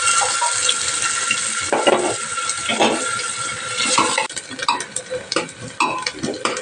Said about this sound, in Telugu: మనం ఇందులో ఆనియన్స్ వేసి ఫ్రై చేసుకుందాం.